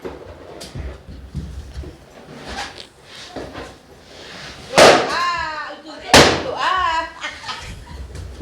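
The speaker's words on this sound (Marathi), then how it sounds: "दोन फुगे फुटलेत" Two balloons burst with sharp, loud pops a little over a second apart during a Malvani party game in Dombivli, each followed by laughter and cheering over a murmur of chatter.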